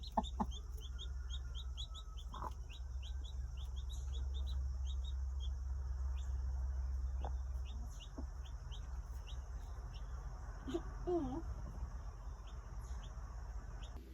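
A hen clucks softly amid high chirps of chicks, with other birds calling faintly over steady low background hum.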